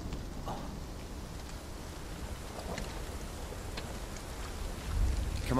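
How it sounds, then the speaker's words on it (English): Rain in Final Fantasy VII Rebirth, a steady soft hiss of falling water and light wind that builds slightly louder near the end, heard alone without talk. "Damn, it's starting to rain."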